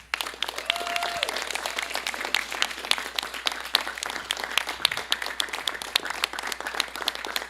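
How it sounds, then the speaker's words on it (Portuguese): Congregation applauding at a church ordination service, a steady dense patter of clapping hands filling the room for several seconds, with a brief voice tone near the start. "Podemos aplaudir também"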